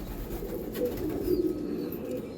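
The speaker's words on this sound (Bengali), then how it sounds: "এটা অন্ধ্রা পায়রা" An Andhra pigeon with unusually dark coloring coos softly at close range, a low, throaty murmur rising and falling over a couple of seconds with no talk.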